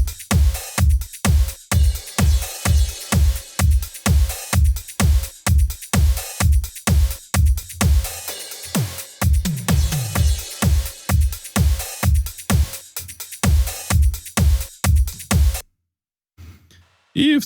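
Sparse drum part of a pop song, a steady punchy kick-and-snare beat with crisp hi-hat ticks, repeating evenly, briefly thinning midway, then cutting off before a short final hit.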